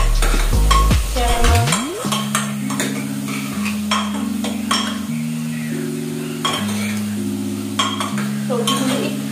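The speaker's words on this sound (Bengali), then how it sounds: "সবজিগুলো একটু হালকা নাড়াচাড়া করে নিই।" A utensil stirs vegetables in a pan for chicken stew, making close, repeated scraping and light clinks against the metal over a soft sizzle. Sustained background music tones run underneath.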